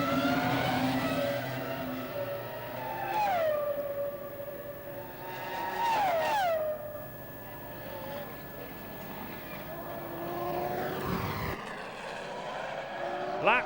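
Formula 1 cars race at the 2003 Canadian Grand Prix, late in the 70-lap event. Several high-revving engines scream past one after another, each pitch dropping as it passes, over a constant loud engine drone.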